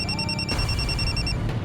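A phone rings with a short, rapid electronic trill in a pulsing tone, close and clear, then cuts off near the end.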